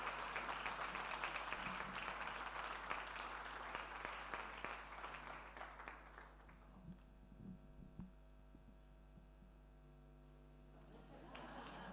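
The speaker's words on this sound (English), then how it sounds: "Kindly give him another round of applause as he receives a gift." A conference audience applauds in a dense burst that thins out after about six seconds, giving way to scattered claps and a steady electrical hum, then swells again briefly at the close.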